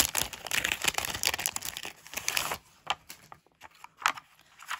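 Sheets of plastic stickers from an Action store are handled close by while making a greeting card, giving bursts of crinkling and rustling that thin out into sporadic crackles.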